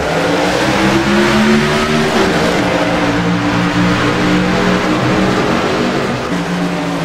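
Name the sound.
race cars accelerating at green flag restart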